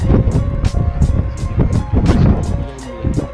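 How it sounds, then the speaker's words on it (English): Monsoon wind buffets the microphone on the hilltop of Korigadh Fort, loud rumbling gusts pulsing irregularly up close with no clear voices. "Wind over here is very chilling right now."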